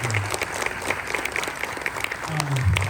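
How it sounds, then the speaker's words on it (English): Audience applause at a Simpson County, Mississippi bicentennial celebration dinner, a steady dense clatter of many hands filling the room, with a low voice or murmur rising underneath toward the end. "let's everybody give Judy a round of applause"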